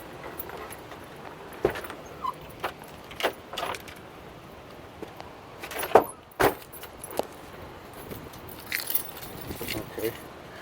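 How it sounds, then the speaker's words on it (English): Metal E-Torx bits clink and jangle in sporadic bursts as a bit set is handled during alternator work on a 2012 Chevrolet Cruze, close by, with scattered rattles and small knocks under a faint background. "So let's get the Torx bits"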